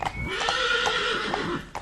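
A horse neighs loudly and close, one long wavering whinny lasting nearly two seconds, alone with no talk.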